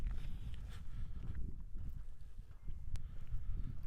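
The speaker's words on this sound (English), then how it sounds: "Sorry about the crunching noise, by the way, that's just my shoes on the gravel here." Shoes crunch over gravel on a windy hilltop lookout, a steady series of gritty footsteps up close with wind buffeting the microphone throughout.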